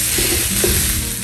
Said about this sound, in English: The onions are starting to get cooked down quite a bit.